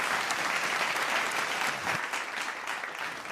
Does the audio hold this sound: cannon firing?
no